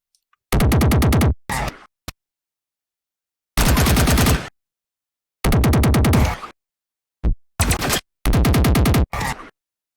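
Gunfire sound effects from a sound-design reel: several loud, dense bursts of rapid automatic fire separated by short silences, each burst about a second long with clipped tails and a few single shots.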